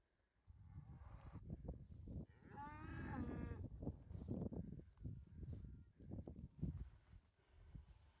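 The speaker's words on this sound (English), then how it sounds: "there must be a few more cows over the top." Several cattle moo loudly and close by on a farm, with overlapping calls in steady succession and a long drawn-out bellow in the middle, plus faint rustling and shuffling between the calls.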